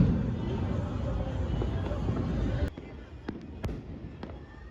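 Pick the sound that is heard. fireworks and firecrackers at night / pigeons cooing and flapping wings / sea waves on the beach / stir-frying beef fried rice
fireworks and firecrackers at night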